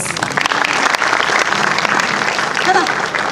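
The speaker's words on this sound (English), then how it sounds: "So I deserve a round of applause, please" An audience claps at a film festival masterclass, dense sustained applause of a large crowd, loud and even throughout, with a brief voice briefly surfacing near the end.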